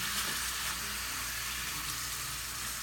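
Al pastor meat fries in a pan with a continuous, fairly faint sizzle and no other sounds.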